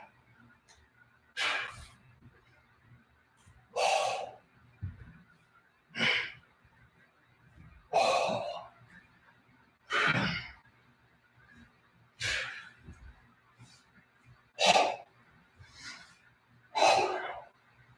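Deep breaths in and out during a core exercise, about eight loud, regular breathy bursts spaced roughly two seconds apart, close to the listener with a faint low hum between them.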